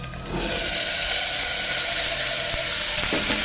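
Vegetables dropped into hot oil, bursting into a loud, close sizzle that starts abruptly and holds as a steady hiss, with a few faint clinks of stirring.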